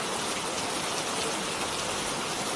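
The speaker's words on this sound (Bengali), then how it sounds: "যা বৃষ্টি শুরু হয়েছে, বেশ খানিকটা দেরি হয়ে গেল।" Steady, dense rain falls evenly, a continuous hiss of drops on surfaces with no other sounds.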